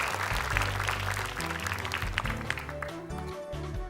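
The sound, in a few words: audience applause for team Ahmad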